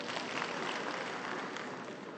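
Applause from a seated audience at a comedy performance during a national conference session, a dense steady patter of many hands clapping, fairly loud and continuous with no voices over it.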